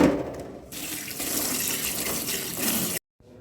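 Tap water runs steadily into a sink as chillies are rinsed under it, a close, loud splashing hiss lasting about three seconds before cutting off, followed by quiet.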